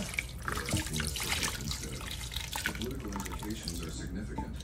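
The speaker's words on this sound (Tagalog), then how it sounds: "So, natin ng tubig." Tap water runs steadily into a pot of Filipino pork estofado made with mushroom soy sauce, a continuous splashing pour heard close up while a person talks over it.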